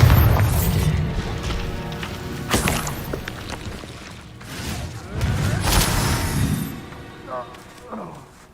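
Bombarda explosion spells going off in the video game Hogwarts Legacy: several loud booming blasts with crackling bursts spread across the clip, layered with game effects and music.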